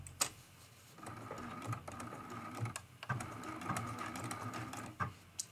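A quilting machine stitches through an art quilt, its needle running in a steady rapid patter with brief pauses and restarts as it moves between quilt lines, fairly quiet and close, with no talking.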